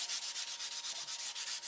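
Steady back-and-forth sanding strokes on a model airplane's stabilizer rasp in an even rhythm, about eight passes a second, close and alone.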